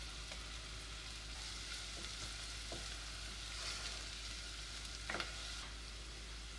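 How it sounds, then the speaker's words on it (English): Sliced garlic clove frying in a hot pan while making menemen, a steady broadband sizzle throughout with a few faint utensil clicks, no talking. "I sliced a clove of garlic. I'm going to add that in."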